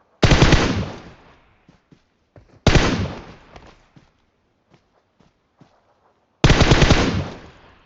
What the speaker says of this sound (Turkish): sen böyle atış yap